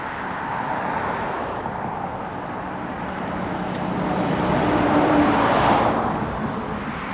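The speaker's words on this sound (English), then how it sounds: "I think this traffic noise can speak for itself." Traffic streams along a busy street near a lake on a winter day with a steady wash of car noise. One vehicle swells louder as it passes close, then fades back into the continuous flow.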